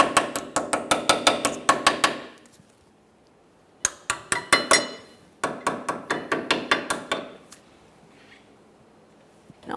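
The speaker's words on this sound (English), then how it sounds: "For these, typically you're going to have to tap them in place using a small hammer." Brake pad tins on a 2004-2008 Ford F-150 rear caliper are tapped into place with a small hammer. Sharp, close metallic taps come in three rapid rhythmic bursts separated by short pauses.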